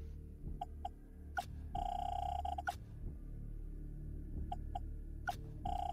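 A payphone rings in the Gears of War Judgment video game, quiet electronic ringing tones in short repeated bursts over a low background hum.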